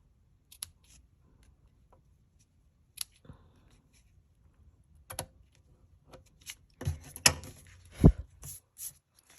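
Scissors snip through designer series paper to trim a card base at an angle: a few sparse, isolated cuts at first, then a quicker cluster of crisp snips toward the end, close and clear.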